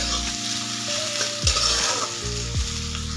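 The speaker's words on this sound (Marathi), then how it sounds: "3 ते 4 मिनिटं आपण बटाटा तेलामध्ये ना तळून घेणार आहोत" Potato pieces fry in hot oil for sabudana khichdi, giving a steady, close sizzle with occasional scraping clinks from stirring. No one speaks over it.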